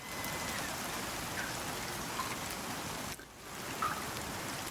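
Steady rain pours down in the Icarus survival video game, a dense even hiss of drops on surfaces with faint scattered patters, continuous for the whole stretch with no speech.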